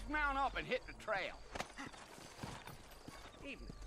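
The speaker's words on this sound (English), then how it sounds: "Sure, ride horses," Horse hooves clip-clop in Red Dead Redemption as a mounted horse walks along a trail, rhythmic thuds mixed with a horse's whinny and voices talking over the game audio.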